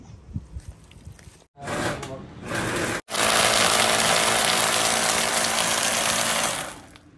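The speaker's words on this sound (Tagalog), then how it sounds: "You smash supposed to smash the grapes, but I'm using the blender." A blender motor whirs up in short bursts, then runs loud and continuous for several seconds churning grapes before cutting off.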